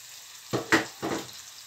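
Onions and pepper frying in a pan, with a few quick scraping stirs breaking through a soft background sizzle, close and with no talk.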